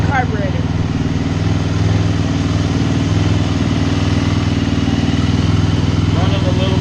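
A Suzuki LTZ 400 ATV engine idles a little high after a carburetor rebuild, a steady continuous mid-pitched drone held loud and close throughout, with a faint voice under it at times.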